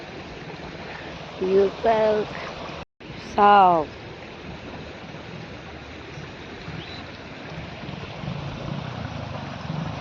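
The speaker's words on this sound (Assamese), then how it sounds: "ভিডিঅ'টোত মানে পানীটোৰ মাতটো শুনিব দিছোঁ" A clear river stream flows in a steady, close rushing wash that fills the whole stretch, with a person speaking briefly near the start.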